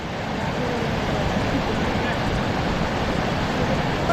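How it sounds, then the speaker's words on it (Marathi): A small but fast-flowing waterfall on a rainy hillside rushes continuously, a dense broadband roar close by with a steady loudness and no pauses. "यात जरा लहान दिसतोय धबधबा पण खूप जोरात येतो ॲक्च्युली वाहतोय."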